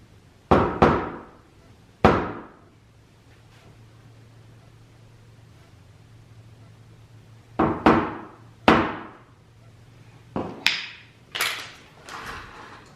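Sharp metallic taps of a center punch on a Subaru WRX fender during a vent install sound in scattered single and paired hits, close and crisp, with quiet gaps between them.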